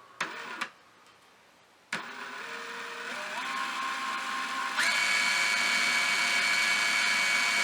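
A power drill spins 38 gauge wire around a post held in its chuck to wrap a Clapton coil: a few sharp clicks, then a steady motor whine that climbs in pitch in steps and holds loud and close.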